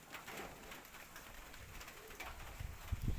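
Soft pigeon cooing over a steady wash of rain during a storm in Baliuag, low murmuring calls repeating faintly in the background.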